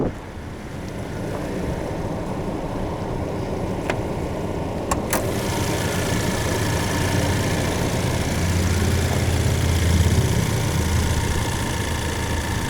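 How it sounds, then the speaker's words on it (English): The 2.3-litre engine of a 2020 Ford Ranger Lariat idles with the hood open, a steady, smooth low hum heard up close for the whole stretch, with a few small clicks and light wind noise. "Not bad at all, pretty quiet running motor."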